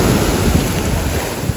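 Ocean surf with a strong current at a Hawaii beach, a steady loud wash of waves mixed with wind rumble across the microphone, with no voices.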